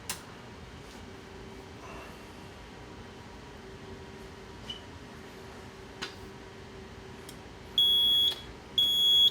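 A fire alarm control panel in trouble mode gives repeated high electronic beeps near the end, two sustained tones with a short gap, over a quiet room hum and a few faint clicks.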